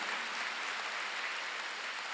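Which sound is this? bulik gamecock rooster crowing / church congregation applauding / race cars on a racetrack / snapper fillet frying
church congregation applauding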